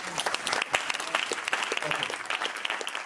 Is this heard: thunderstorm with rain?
no